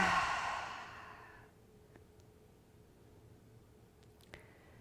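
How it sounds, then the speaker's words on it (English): Deep cleansing breath let out through the mouth during a yoga flow, one long breathy exhale up close that fades to quiet, followed by a couple of faint small clicks. "Deep cleansing, breath out through your mouth"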